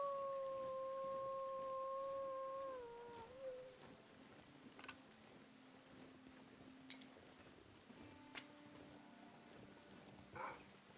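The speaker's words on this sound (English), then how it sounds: "It sounds close, but they always sound closer than they actually are when they're howling." Wolves howl in the wilderness of the survival video game The Long Dark, two long sustained tonal howls overlapping for about three seconds and sounding fairly close, then fading into quiet ambient wind with faint scattered clicks.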